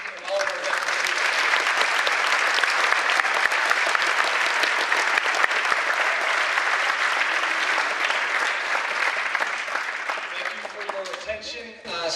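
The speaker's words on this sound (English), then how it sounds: "applause for our speaker, Mr. John Krasinski, and all of our veterans" A school Veterans Day assembly audience applauds a guest speaker and veterans, a long dense roar of clapping from a big crowd that holds steady before thinning out, with voices emerging at the end.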